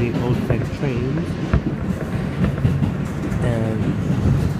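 An R160B N subway train on a battery run rumbles steadily with a continuous low mechanical drone and faint rail clatter, while someone talks over it throughout.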